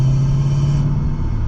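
A car engine fitted with an intake amplifier rumbles in a steady, deep drone close by, holding a low, continuous tone without a sharp rev.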